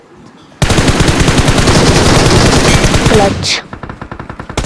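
Loud automatic gunfire erupts in the mobile shooter BGMI, a dense unbroken burst lasting about three seconds followed by a few scattered shots, with a player's voice speaking briefly.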